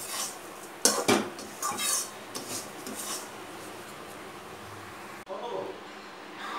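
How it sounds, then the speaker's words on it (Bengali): Semolina and sugar stirred in a pot with a metal spoon, giving irregular scraping clinks and knocks against the pot over a steady low hiss. "এবার ভালো করে আর একটুখানি নেড়ে নিই"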